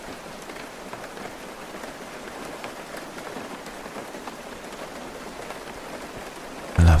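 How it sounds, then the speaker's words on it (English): Steady rain falls at night, a dense, even hiss of drops pattering on surfaces that carries on unbroken, ending in a sudden louder knock at the very end. "I love the sound of the rain."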